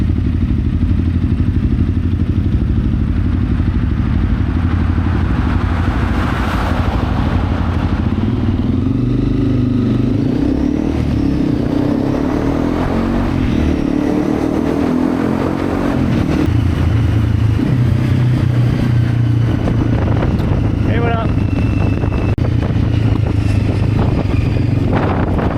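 A Honda CRF 300 motorcycle rumbles steadily up close while riding, and a car approaches and passes midway, its whoosh rising and fading over the engine's continuous drone.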